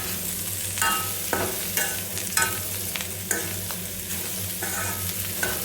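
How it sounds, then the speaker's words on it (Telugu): Bitter gourd fried with garlic sizzles steadily in a pan, with a series of sharp stirring scrapes recurring roughly every second over the continuous frying hiss. "ఇలా ఫ్రై చేసుకోవాలి టోటల్గా"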